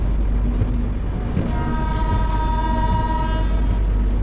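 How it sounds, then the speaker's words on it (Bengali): An Indian Railways train pulls out of Santragachi station with a steady heavy rumble of rolling stock, and a loud, sustained horn sounds from about a third of the way in until the end. "সাঁতরাগাছি স্টেশন ছেড়ে চললাম আমরা।"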